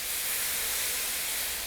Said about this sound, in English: We're just going to give it a shot of water and wipe it off